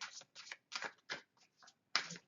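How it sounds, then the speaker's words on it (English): A deck of oracle cards is shuffled by hand in several short, close riffling bursts separated by brief gaps, with no talking. "I'm shuffling up the Soul Helper Oracle deck."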